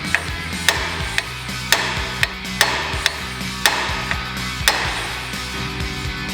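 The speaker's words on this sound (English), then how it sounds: "You just need to give it a sharp rap to break free the taper." Sharp hammer raps on a steel steering knuckle to break its taper joint free during a knuckle replacement: about nine crisp metallic strikes spaced irregularly over six seconds, close and distinct over a low mechanical hum.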